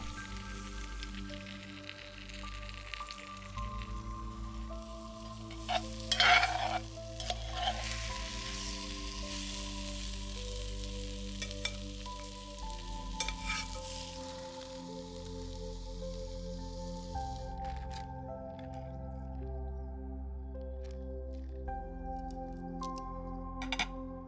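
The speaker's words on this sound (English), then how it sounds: "Mushrooms and onions sauteing up for a nice gravy." Mushrooms and onions sauteing in a pan over an open fire, a steady close sizzle and crackle with occasional stirring clinks, continuous with no talk.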